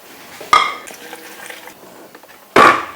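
Thinly sliced pear, onion, garlic and red chilies for kimchi are tipped into a bowl in two loud, close clattering bursts, separated by soft kitchen rustling.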